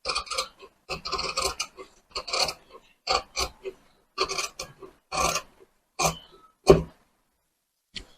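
Fabric sleeve being cut for a blouse with sharp scissor snips, close and fairly loud, coming in short uneven bursts separated by brief silences.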